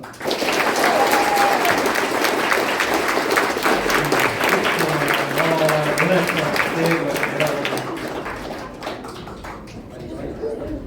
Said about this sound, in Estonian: võime neid aplausiga tänada